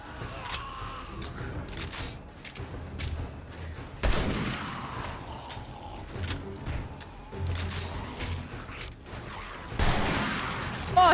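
Shotgun blasts in 7 Days to Die Alpha 21 boom out as a few heavy, separate shots, with mechanical clicks and scattered game noises between them.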